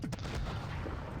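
A T-44-85 medium tank's gun fires in World of Tanks Blitz, one sharp close boom at the start that decays into a rumbling tail, with no one speaking.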